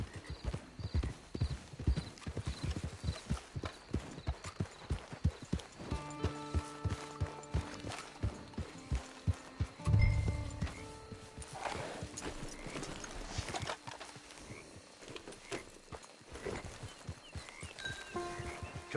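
Horse hooves clip-clop steadily on the ground in Red Dead Redemption II, a close, quick rhythmic beat that continues throughout, with a brief whinny or snort near the middle and faint ambient tones underneath.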